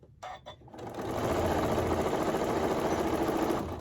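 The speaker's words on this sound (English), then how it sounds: "And then I back stitch again once I get back to where I started." A sewing machine back-stitches through layered fleece fabric for a hat and scarf, starting with a couple of short stuttering bursts, then settling into a steady, even whirring run of stitches.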